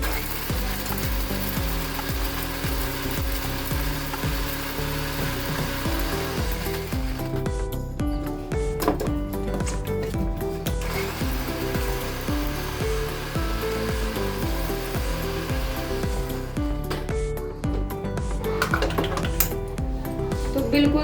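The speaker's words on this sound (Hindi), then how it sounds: "अब मैं इसे एक बार मिक्सी के जार में अच्छे से घुमा दूंगी।" A kitchen mixer grinder spins dried corn kernels into cornflour in its jar, a loud continuous whirring drone with rattling, shifting pitch running the full length.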